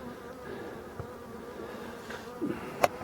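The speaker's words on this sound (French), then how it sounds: "le petit essaim est sorti de cette ruche là, qui est juste à côté." Small swarm of honeybees leaving a hive in an apiary, a faint steady buzzing hum with a few closer bees darting past near the end, no voices.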